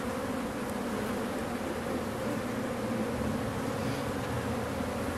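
Forager honey bees swarm in at a hive entrance with a dense, continuous buzzing hum, close and steady, with no voices.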